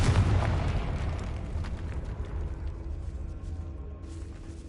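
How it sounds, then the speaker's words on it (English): A Confringo fire blast spell explodes in Hogwarts Legacy with a loud boom up front that rolls into a long, rumbling, crackling decay, heard alone with no voices. "Confringo."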